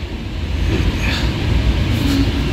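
The Akal Takht Express pulls out of Patna platform 1 on time, a steady low rumble of the moving train heard from inside a first-class AC coach, continuous and fairly loud with no talk.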